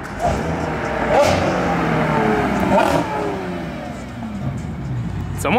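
A car with a new exhaust revs hard and nearby at a supercar meet, its engine note rising and falling in sustained, loud pulls for the whole stretch, with a busy crowd murmur underneath.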